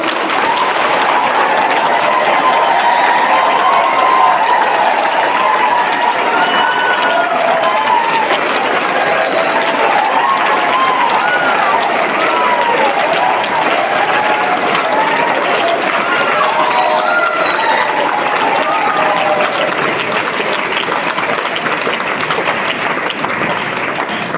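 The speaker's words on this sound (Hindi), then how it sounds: "एक बार जोरदार ताली दो" Loud, sustained applause from a class audience fills the room, a thick, continuous roar of clapping with scattered voices and faint cheers mixed in, holding strong for over twenty seconds without letting up.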